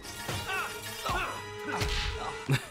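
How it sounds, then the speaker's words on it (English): A punch sound effect from a Spider-Man movie lands as one sharp thud near the end, following a stretch of film dialogue and music. "You hear the punching sound effect?"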